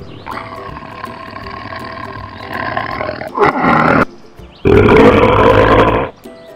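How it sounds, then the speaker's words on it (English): Cartoon tiger roaring in a children's animal video: a long, loud, rough roar followed by a second powerful roar after a short pause, close and alone. "Tiger."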